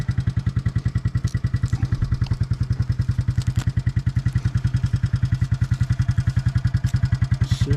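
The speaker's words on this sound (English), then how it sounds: "I'm letting the four-wheeler roll up, warm up" A four-wheeler engine warms up on a morning in the woods, idling close by with a loud, fast, evenly spaced thumping that never changes pace and no voices over it.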